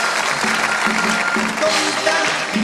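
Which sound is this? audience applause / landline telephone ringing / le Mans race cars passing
audience applause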